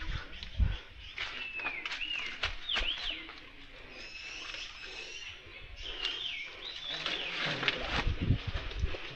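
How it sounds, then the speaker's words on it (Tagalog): Wild birds call noisily from nearby, with bright, twittering chirps and cooing that come in clusters and rise and fall over about nine seconds against low outdoor background sound. "yung ibon, kanina huminto, ngayon umingay na naman sila"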